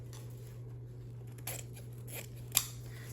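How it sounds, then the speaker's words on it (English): Scissors cut through ribbon, producing a few quiet, close snips, the last one sharper and a little louder, over a low steady hum. "Cut this ribbon."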